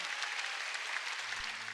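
A church congregation claps in a brief, dense burst of applause that carries through the whole moment, with a low hum underneath.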